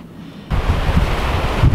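Strong wind of about 10 m/s at Simrishamn harbour, suddenly buffeting the microphone as a loud, rough rumble after a brief quieter moment, with churning water behind it.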